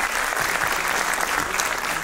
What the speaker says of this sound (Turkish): Alkışlayın.